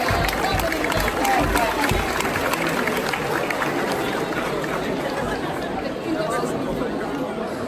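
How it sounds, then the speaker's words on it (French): An audience at a dance competition applauds a dance group with sustained, dense clapping and crowd chatter throughout, loud and continuous. "Mesdames et messieurs, on peut les applaudir bien fort"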